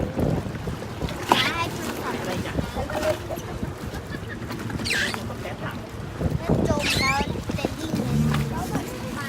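A speedboat waits at a pier for a snorkeling trip to Samae San Island near Sattahip, Thailand, its engine and wave wash rumbling steadily with wind buffeting the microphone, under ongoing nearby talk.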